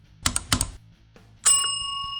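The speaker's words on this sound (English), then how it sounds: "and ring the notification bell." A bright notification bell ding rings out once and lingers with a clean metallic decay, after two short clicky taps, with no voices.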